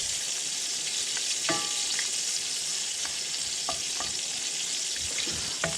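Rehydrated hen of the woods mushrooms frying in hot butter in a pan, a continuous loud sizzle with occasional scraping stirs and small pops, close up with no voices.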